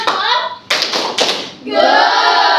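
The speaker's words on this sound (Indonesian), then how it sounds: "Tepuk tangan dulu untuk yang mendapatkan nomor 2" A classroom of students claps together in two loud bursts of applause, close and dense, with chatter and voices around them between the bursts.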